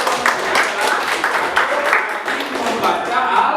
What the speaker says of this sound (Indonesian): Nah, tepuk tangan dulu dong.